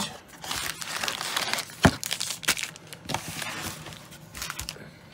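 A pack of 1990 Score baseball cards being ripped open, crinkly wrapper crackling and tearing in bursts with a sharp snap near the start, close and fairly quiet.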